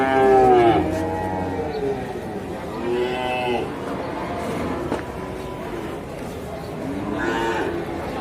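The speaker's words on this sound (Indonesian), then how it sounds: "Sapi betina ya teman-teman, ini jenis pekon ya." A very thin cow moos several times, long low calls near and far, with a murmur of background noise and light movement between them.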